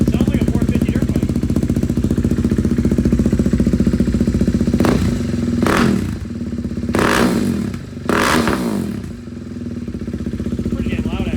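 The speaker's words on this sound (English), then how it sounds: "Sounds like a 450 dirt bike." A KTM Duke 390 motorcycle engine idles loud and steady close by, its low throbbing drone filling the whole stretch, with a few sharp throttle blips or clunks around the middle and a voice talking over it.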